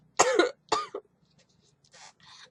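Two sharp, throaty coughs close by in quick succession, followed by a few faint breathy sounds.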